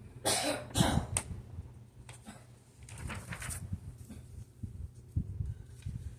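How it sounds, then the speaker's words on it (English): A few sharp coughs near the start, with another fainter cough or two later over a low background hum. "Somebody's coughing."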